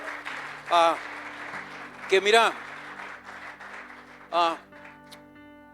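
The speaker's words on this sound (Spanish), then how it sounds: "¿Por qué no damos un aplauso, hermanos, a esos jovencitos, verdad?" Church congregation applause for the young people, a soft, steady spatter heard faintly beneath a voice that talks and calls out over it.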